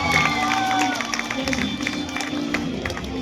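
Crowded hall at a Delhi University UPSC seminar fills with steady rapid clapping and cheering, a loud continuous wash of many hands with a whistle early on, while voices murmur underneath.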